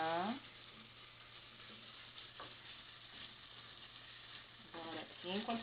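Chopped garlic, onion, bell pepper and cilantro browning in a hot pan give a steady, low sizzle, with a person talking briefly at the start and again near the end.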